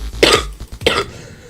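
Two harsh, loud coughs close to the microphone, one after the other with a brief gap between them.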